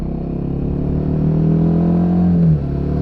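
Royal Enfield Himalayan 450 motorcycle engine on a test ride, a steady close-up drone that swells with a rising rev near the end before easing back to a constant hum, with no talk over it.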